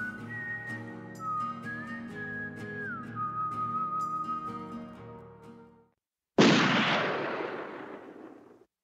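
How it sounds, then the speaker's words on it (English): A wavering whistle-like tone plays for several seconds, then after a brief silence a single loud gunshot cracks and rolls away through the hills in a long echoing tail. "The gunshots echoed throughout the hills."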